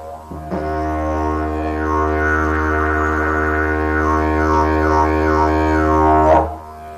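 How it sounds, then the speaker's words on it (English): A loud, steady didgeridoo drone starts after a brief breath, with a pulsating tongue technique rippling rhythmic overtones above the deep fundamental for about six seconds before stopping. "I'll demonstrate it once more on the didgeridoo"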